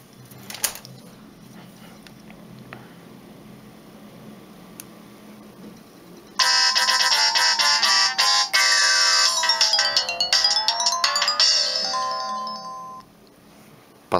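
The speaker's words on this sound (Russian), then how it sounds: "Поставил я второй вариант мелодии. Включение-выключение." Power-on melody from a Samsung C100 mobile phone: a loud, bright polyphonic ringtone tune that starts abruptly after quiet room noise, runs for about seven seconds, then fades out.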